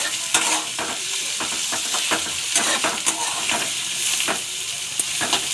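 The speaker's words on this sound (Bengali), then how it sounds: "তেল গরম হয়েছে, তার মধ্যে পেঁয়াজ দিলাম" Onions sizzle and fry in hot oil for a small prawn curry, a steady loud crackle with repeated sharp scrapes of stirring throughout.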